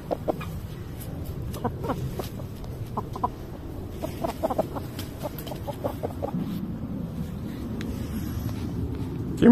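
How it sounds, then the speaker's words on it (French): Three roosters strut around a single hen in a farmyard, giving a steady stream of close, short clucks and throaty calls over low background noise, with a louder burst at the very end. "3 coqs à faire du charme à la même petite poulette."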